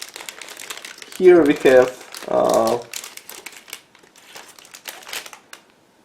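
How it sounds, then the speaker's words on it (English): Plastic bag holding several model kit sprues being torn open and crinkled, for a 1/35 MiniArt T-44 tank kit, in close crackling bursts with someone talking over and after it. "Manufacturer decided to pack several plastic sprues into the separate plastic bag. So again, I need a second to open it."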